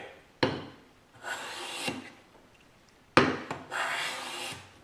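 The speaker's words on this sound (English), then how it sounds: "I was planing in one direction. I think I was planing this way." A hand plane pushes across a Douglas fir board in two long, rasping strokes, each opening with a sharp knock of the plane landing on the wood, close and distinct with no talk.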